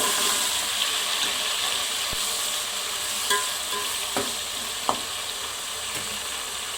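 Chopped tomatoes and salt going into a frying pan for mixed masala rice, a constant loud sizzle with a few light clinks and scrapes, close up with no talking.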